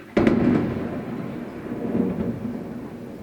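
A thunderclap from a thunderstorm breaks suddenly and loudly, then rolls on as a long low rumble that slowly fades, with no voices.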